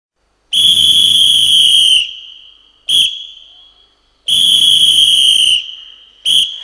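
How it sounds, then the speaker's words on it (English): A whistle is blown to start a Shakha gathering: two sets of loud, shrill blasts, each a long tone about one and a half seconds followed by a short sharp burst, close and alone. "and blows the whistle."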